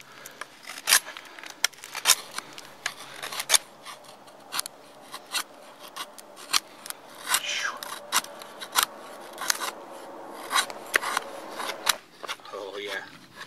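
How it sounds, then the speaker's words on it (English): A Ka-bar Becker BK5 knife carves and whittles wood, giving a steady series of sharp, close scraping strokes at an irregular rhythm. A person speaks quietly underneath. "This knife can really carve. I love using it for this type of stuff."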